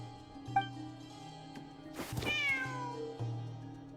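Ashru, a cat in Genshin Impact, lets out a drawn-out meow in the middle of the moment, heard over a soft sustained musical backdrop with a few faint chimes and no speech.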